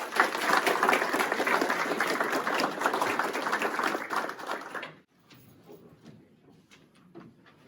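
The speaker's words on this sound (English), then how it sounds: "A round of applause for that." A roomful of people applauds at a Kenosha County Sheriff's Department promotion and awards ceremony, steady clapping for about five seconds before it stops abruptly, leaving faint room noise and scattered rustling.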